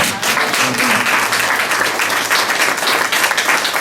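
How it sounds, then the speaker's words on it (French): An evangelical church congregation at a Sunday worship service breaks into sustained, loud applause, a dense, steady wash of clapping from many hands filling the room. "Est-ce que nous pouvons acclamer la parole du Seigneur?"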